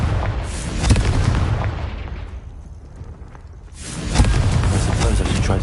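In the Hogwarts Legacy video game, the Confringo blasting spell explodes with loud, rumbling booms that open the clip and return strongly after a brief quieter gap, with no talk over them.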